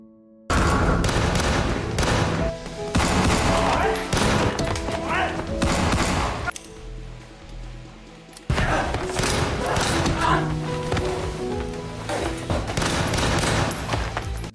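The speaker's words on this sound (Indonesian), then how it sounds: "Terjadi tembak-tembakan di tempat itu." Gunfire in a film shootout, heavy bursts of rapid shots and thuds in loud clusters, broken by a short quieter stretch before the volleys resume with booming impacts under a musical score.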